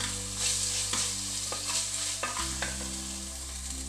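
Tomato fries in a pan with a steady, close sizzle, broken by several sharp scrapes and clinks of stirring at uneven intervals; no one speaks.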